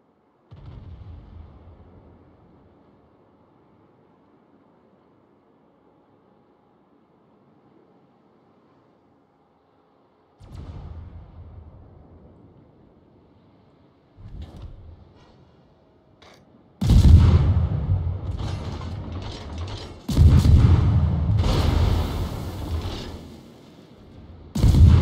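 Warship guns firing in the naval battle game World of Warships, aboard the destroyer Mahan: a low rumble, then a few heavy booming salvos, loud and close, with long rolling echoes between shots.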